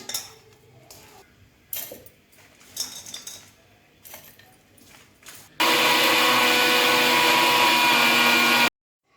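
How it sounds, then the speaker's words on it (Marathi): A kitchen mixer grinder whirs loud and steady for about three seconds, grinding crushed shev for Khandeshi ladoo after a run of soft clinks and handling noises. "हे मी आता मिक्सरमधून वाटून घेणार आहे"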